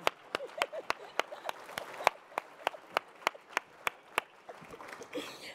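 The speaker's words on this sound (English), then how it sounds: "you could clap for Ed." Scattered, slow hand claps from a small audience at an awards event, with single sharp claps in an uneven rhythm that thin out and stop, fairly faint against a quiet room.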